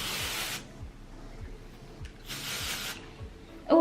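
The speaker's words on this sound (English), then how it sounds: "So the nozzle is kind of like scary. Yeah, so we're just gonna spray it here." Redken Dry Texture hair spray hisses from an aerosol nozzle in two separate bursts, each about half a second long. The sprays are close and fairly soft, with quiet pauses between them.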